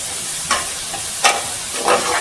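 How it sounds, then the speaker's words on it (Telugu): Onions, green chillies and cumin stirred in hot oil for a dhaba-style chicken curry, a steady sizzle broken by three louder scraping strokes of the spoon, close and alone. "ఇలా బాగా తిప్పుకుంటే ఈ నూనెలో మగ్గుతాయన్నమాట"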